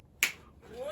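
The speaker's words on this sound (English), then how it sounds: "I'm gonna snap my fingers like this." One crisp finger snap rings out sharply in a quiet room, followed by a faint rising tone.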